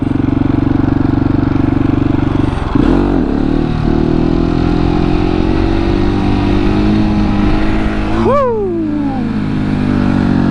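A supermoto motorcycle engine revs hard through a wheelie, holding a loud, steady drone with a dip and quick throttle swell near the middle and a sharp rising rev blip toward the end.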